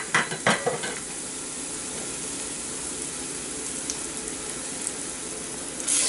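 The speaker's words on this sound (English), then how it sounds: "Add crushed garlic." Crushed garlic hits hot oil over low-medium heat while a veggie pizza sauce is prepared, giving a steady close sizzle with a few sharp crackles and pan clinks at the start.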